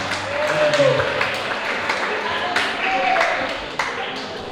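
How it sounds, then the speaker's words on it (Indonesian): Audience at a school language-month celebration gives applause for a student speech contestant, scattered claps sounding through a hall full of murmuring voices. "berikan tepuk tangan yang meriah untuk Adira Suspika"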